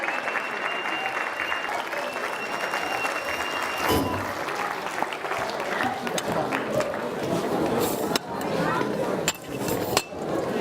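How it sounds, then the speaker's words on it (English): Party guests at a year-end newspaper celebration clap loudly and steadily, with cheers, chatter and occasional clinks of glasses and dishes mixed through the applause. "Please, put your hands together for Desi Nutch."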